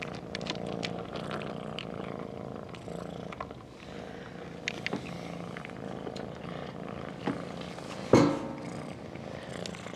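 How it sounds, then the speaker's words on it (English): A kitten purrs softly and steadily close by, a continuous low rumble running the whole time, broken near the end by a brief sharper rustle or bump. "He's purring now if you listen."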